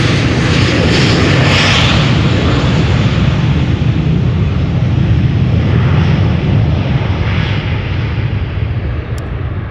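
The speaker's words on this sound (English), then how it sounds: "So we have a 737 skipping the line." A KLM Boeing 737-800 jet takes off at Amsterdam with a loud, sustained engine roar that holds steady throughout and fades only slightly at the end.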